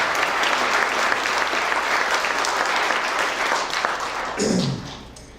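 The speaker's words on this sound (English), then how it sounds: "So everybody give yourselves a huge round of applause." A room of attendees at a business and leadership awards ceremony gives loud, sustained applause for about four seconds, then the clapping thins out and fades, with a brief murmur of voices near the end.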